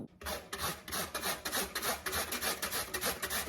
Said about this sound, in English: grate my potatoes. I'm gonna go ahead and grate it.